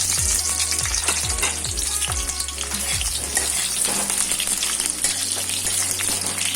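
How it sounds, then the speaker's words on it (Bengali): Cut potatoes fry in hot mustard oil in a kadai with a loud, steady, close sizzle throughout, plus a few scraping knocks early on. "আমি তেলের মধ্যে দিয়ে দেবো কেটে রাখা আলু।"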